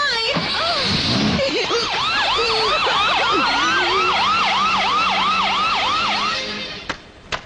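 An ambulance siren wails loudly and close by in a repeating rising-and-falling yelp, continuous for several seconds before cutting off, followed by a couple of sharp knocks.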